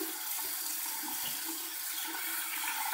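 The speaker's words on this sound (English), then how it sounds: "Just ran some really, really hot water" Really hot water runs steadily from a tap, a continuous close hiss and splash of flowing water with no pauses and no talking.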